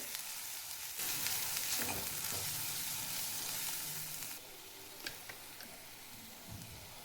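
Ground masala paste roasts in hot oil for Marathi dubuk vadi, producing a fairly quiet, steady sizzle with occasional spoon scrapes and clicks that eases to a softer hiss in the latter half.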